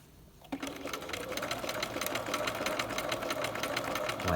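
A sewing machine stitches a facing and lining unit at a short 0.75 stitch length, running in a fast, steady whir of needle strokes after a brief start, close and alone.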